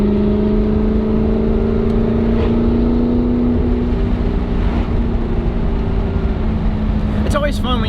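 Audi R8 engine revving hard toward redline at around 6,000 RPM during a spirited drive, a loud sustained rising engine tone heard from inside the car with a voice speaking over it.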